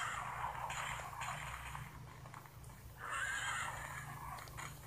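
A horse neighs in two drawn-out whinnies, one near the start and a louder one midway, over a low steady hum, quiet overall with no one speaking.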